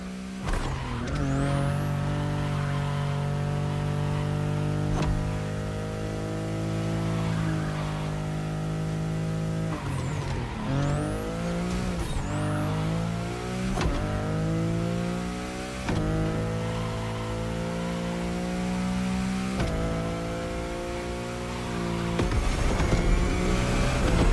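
A car engine driving in The Crew Motorfest, revving up and down through gear shifts with rising and falling pitch, loud and continuous, with a few brief drops as the driver lifts off before accelerating again.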